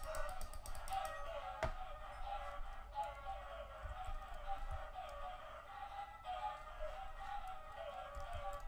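Chickens clucking and squawking in the Minecraft modpack Crazycraft, a busy cluster of bird calls layered over steady game background noise, moderately near, no talking.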